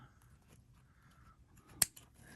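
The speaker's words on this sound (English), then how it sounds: "I'm going to just cut this link here" Nippers snip through a single link of a jewelry chain, giving one sharp, brief metallic click close by in an otherwise quiet setting.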